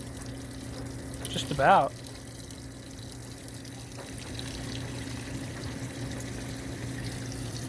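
Water filling the drum of a GE top-load washing machine on a bulky items deep-fill cycle, a steady low rush and trickle over motor hum, with a brief spoken remark near the start.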